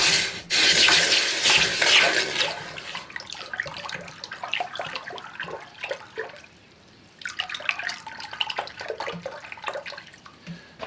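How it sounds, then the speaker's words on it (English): Hot forged iron hook with a spade finial quenched in a blacksmith's water slack tub, a loud burst of hissing and bubbling at the start that settles into quieter gurgling and sloshing as the piece is swirled. "what I'm going to do is just quench this in my, we call a slack tub or a quenching tub"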